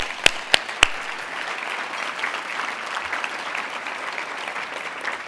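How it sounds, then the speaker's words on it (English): Audience applause at the 2018 TEMPO Mentor Awards: three sharp, close claps open a steady wash of clapping from a crowd that continues evenly throughout. "Round of applause."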